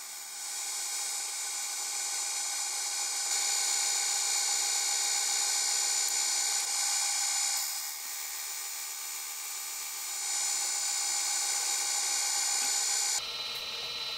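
A milling machine grinds relief into a shop-made thread tap, giving a steady high-pitched whine that swells and eases slightly for about thirteen seconds with no voices, then cuts off.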